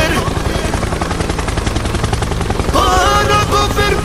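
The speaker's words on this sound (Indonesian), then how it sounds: "Pesawat helikopter. Helikopter, helikopter." Loud, rapid chopping of helicopter rotor blades with a low engine drone, continuing steadily, joined near the end by brighter whirring tones.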